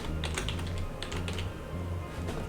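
Quick, continuous keystrokes clatter on a computer keyboard as a VBA command is entered in Excel, a close, dense run of taps over a low background hum.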